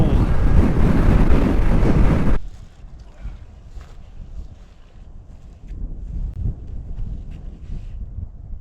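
Heavy wind buffets the microphone at high elevation on a cold, windy backcountry stop, a loud roaring rumble for the first seconds, then dropping to quieter gusty blowing that swells again near the end.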